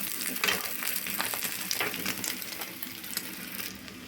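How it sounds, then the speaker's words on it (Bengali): Egg sizzles in a frying pan on a home stove, a soft, steady crackling hiss with scattered spits and faint scraping, heard close and alone. "বন্ধুরা ডিমটা ভাজা হয়ে গেছে"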